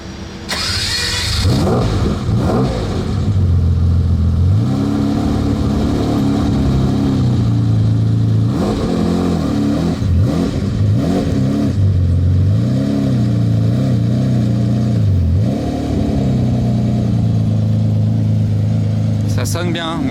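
A sports car engine revs and idles through a steady mid-pitched drone with repeated throttle blips and swells, close and loud, with people talking over it.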